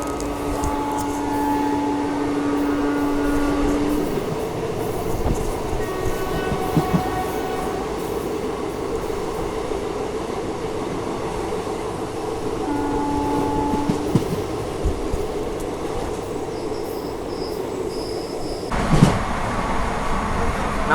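An ordinary express train travels between Tiruchy and Erode at around 110 km/h, heard from inside as a continuous loud roar and rattle with a brief whine and a sharp clunk near the end.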